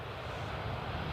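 A fixed-wing airplane at windy Edinburgh Airport gives a steady, continuous low roar that stays at the same level throughout, mixed with wind rumble on the microphone.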